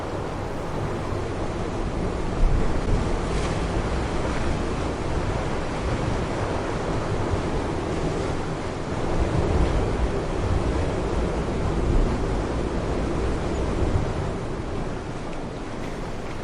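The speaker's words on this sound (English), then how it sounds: "the place where land meets the roaring Atlantic" Atlantic surf rolls against the black basalt cliffs at Dyrhólaey on Iceland's south coast, a continuous loud wash of waves and wind roar with gentle swells and no voices.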